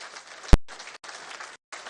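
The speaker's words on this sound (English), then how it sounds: "A round of applause for them," An audience at a ceremony gives a brief round of applause, steady dense clapping broken by short gaps and one sharp loud knock near the start.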